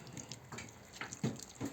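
Purified water poured into a pot of solyanka soup, heard as a few soft splashing pours and trickles in short bursts, fairly quiet and close, with no talking.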